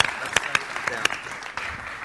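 A small audience claps briefly at a conference session, a few sharp distinct claps rising out of a soft murmur with voices mixed in.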